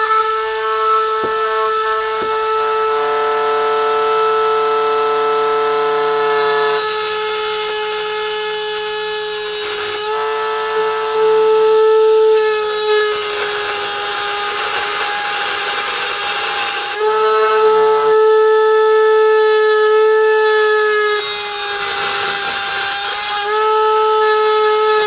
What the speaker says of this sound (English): This is nasty, dangerous work here with the Dremel.